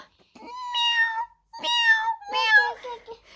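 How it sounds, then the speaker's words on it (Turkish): A cat meows three times in a row, each call clear and close, with short pauses between and no other sound around it. "Kedicik geliyor Meyra."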